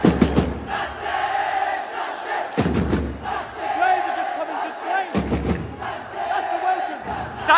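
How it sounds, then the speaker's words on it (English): Kerala Blasters football supporters roar and chant throughout a packed stadium, a dense continuous crowd din with rhythmic bursts and thumping surges, heard from within the stands. "the Blasters army on the other side making noise to help this whole stadium go absolutely mental"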